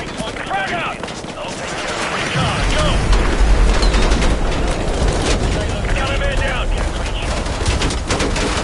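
Explosion and gunfire in Call of Duty: Modern Warfare 2 Remastered: a deep boom lands about two seconds in, followed by continuous loud rattling gunfire and blasts, with shouted voices mixed into the chaos.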